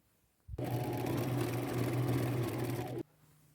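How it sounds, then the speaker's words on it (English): Sewing machine stitching coral fabric pieces onto a jacket, one steady motorized hum that starts suddenly, runs evenly for about two and a half seconds and cuts off, with quiet room tone on either side. "Now I'm going to go sew these all on"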